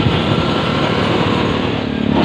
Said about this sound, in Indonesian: Ini berisik banget, ada motor itu teman-teman, Kaisar.